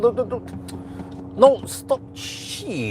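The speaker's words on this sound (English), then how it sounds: "dude, that was just a motorcycle that hammered us." A motorcycle speeds very close past a car, an Avatr 11 LR electric vehicle, with a short rushing surge near the end amid startled shouting and talk inside the car.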